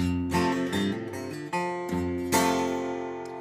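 An acoustic guitar plays strummed chords with quick hammered-on notes between them, close and clear with no voices.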